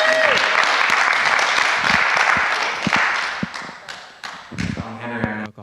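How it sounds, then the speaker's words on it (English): Audience applause with clapping and cheering fills a recovery meeting livestream as Henry is introduced, a dense steady round that thins and breaks into scattered claps and voices toward the end. "Ladies and gentlemen, give a nice round of applause for Henry in October"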